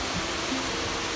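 Tad Sepong Lai waterfall in Attapeu, southern Laos, running low in the dry season, a steady broadband rush of falling water, close and unbroken.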